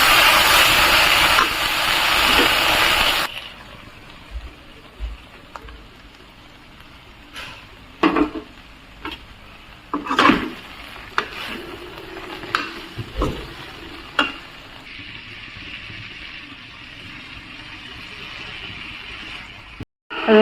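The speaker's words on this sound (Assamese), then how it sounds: "ঢেকীয়া দি দিছোঁ, সৰু সৰুকৈ কুটি লৈছোঁ। আৰু এতিয়া এইখিনি ভালকৈ লৰাই ল'ম।" Chopped dhekiya fern stirred in a frying pan: a loud sizzle at first, then intermittent scraping and knocking strokes of a spatula against the pan over a soft, steady hiss.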